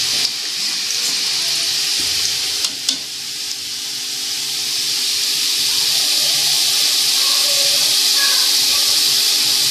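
Moong and chana dal fry in hot oil with a loud, continuous sizzle and bubbling hiss. A couple of sharp scrape or stir knocks come early, and then the sizzle holds dense and steady.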